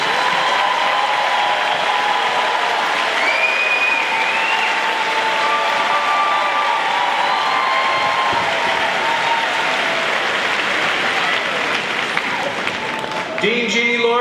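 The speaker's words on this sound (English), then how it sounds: "Let's have a big round of applause for all these graduates." Sustained applause from a large audience at a graduation ceremony, dense steady clapping for the graduates with a faint murmur of voices underneath, continuing loud throughout.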